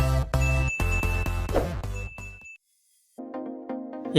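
A bright notification bell jingle plays as a sound effect, a run of chiming tinkling notes followed by a short silence and then a further chime, crisp and fairly loud with no speech.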